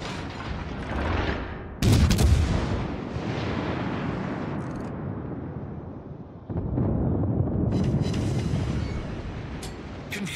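Naval gunfire from warships in World of Warships Legends, with the Pensacola cruiser in action: heavy booming salvos burst out at about 2 seconds and again near 6.5 seconds over a constant rumbling battle din.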